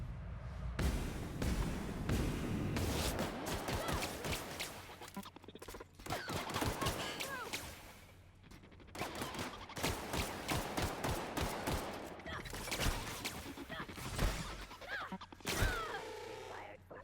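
Gunfire in the video game The Outer Worlds: a long run of rapid, loud shots and bursts with impacts and crashes, broken by brief pauses, with scattered voices in between.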